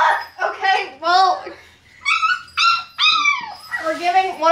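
A puppy sitting in a kitchen sink for a bath whimpers and yips in a string of high, wavering whines, close and fairly loud, with short pauses between cries.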